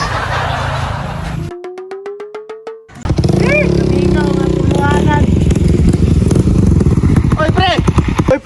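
A motorcycle engine revs and idles close by, loud and steady, with a brief metallic clatter before it starts and people talking over the running engine.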